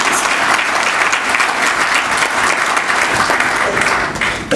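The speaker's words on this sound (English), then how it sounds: "So let us give them a round of applause" A large audience at a Pak-Afghan trade and investment forum gives loud, sustained applause. Dense clapping continues evenly throughout and fades slightly at the end.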